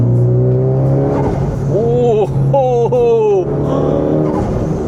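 A tuned turbo Mitsubishi Lancer Evolution X FQ-440 MR engine drones loudly, then blips and revs through downshifts with turbo flutter, the pitch swooping up and down in quick bursts before settling again.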